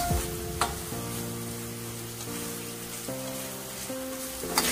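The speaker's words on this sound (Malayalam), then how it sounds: "അപ്പോൾ നമുക്ക് നന്നായിട്ടൊന്ന് മിക്സ് ചെയ്യാം" A condensed milk sweet mixture is stirred in a pan, giving a steady close scraping and soft sizzle that runs continuously beneath background music.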